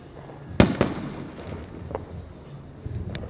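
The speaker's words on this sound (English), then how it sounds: "Some fireworks that side." New Year fireworks in Jamaica: a loud bang followed quickly by a second burst, then a few fainter distant pops over a low rumbling background.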